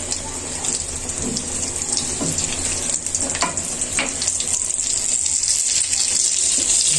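Eggplant chops frying in oil give off a steady, dense hiss and crackle that runs unbroken throughout, close and fairly loud, with occasional faint clatter.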